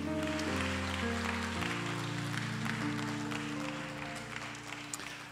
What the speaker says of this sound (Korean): 우리 여성민 목사님 나오실 때 우리 축복의 박수로 우리 함께하도록 하겠습니다